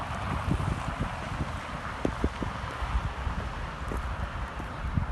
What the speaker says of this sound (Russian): ой, ветер